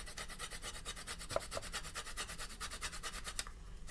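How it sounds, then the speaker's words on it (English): Fresh lemon rubbed against a grater for zest, giving a quiet, rapid, rhythmic rasping scrape of repeated short strokes that stops just before the end. "you just take your lemon and you use your grater and you shave that lemon zest"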